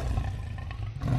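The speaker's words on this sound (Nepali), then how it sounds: "एउटा दुष्ट सिंह त्यो जंगलमा बस्थ्यो" A deep, rumbling lion roar used as a sound effect in a children's animal story, heard alone, steady and close for about a second without any speech.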